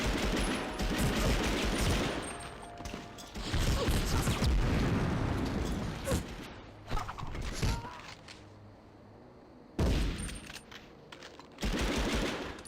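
Bursts of rapid gunfire in the World War II shooter Medal of Honor Underground, loud and close, coming in several separate volleys with short quiet gaps between them.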